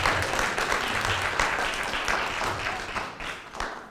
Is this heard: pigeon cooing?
no